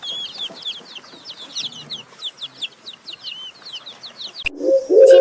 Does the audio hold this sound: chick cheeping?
yes